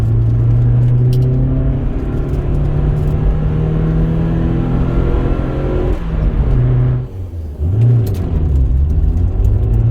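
Rover K-series car engine in 103bhp tune revving and accelerating hard, a loud raspy drone with rising harmonics, a brief dip around a gear change, then pulling again; no talking.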